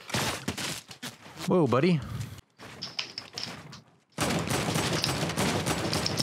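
Pump shotgun fire in the Fortnite battle royale arena duos match comes as a few sharp, loud blasts among game effects, with excited voices talking over them throughout.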